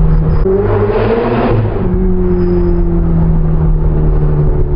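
A Ferrari 488 Spider's engine revs loudly up close, with pitch falling in steps through downshifts before settling into a sustained mid-range drone.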